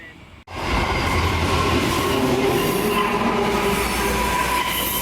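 A train hauled by three diesel locomotives rumbles steadily past a platform at Koolewong station, New South Wales, close by, with a constant roar of wheels and faint metallic squeal throughout.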